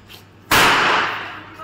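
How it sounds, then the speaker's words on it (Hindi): A single sharp green firecracker bang bursts out during Diwali and leaves a long hissing, crackling tail that slowly fades. "तो गए पटाखे छोड़ रहे हैं, ग्रीन पटाखा, नीलू छोड़ रही है डर के मारे।"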